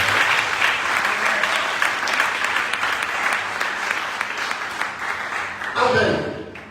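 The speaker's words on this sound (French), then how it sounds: "On acclame le Seigneur." A church congregation claps and cheers together in praise, dense sustained applause filling the room for several seconds before fading at the end, with a voice rising briefly over it.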